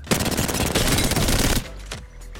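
An R99 submachine gun in Apex Legends fires a fast, steady automatic burst for about a second and a half, loud and close. It then stops and gives way to a few faint clicks.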